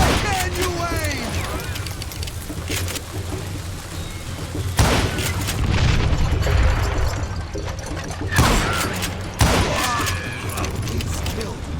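Gunfire in the Western shooter game Call of Juarez Gunslinger, several loud sharp reports spread through the scene over a layer of game sound and voices.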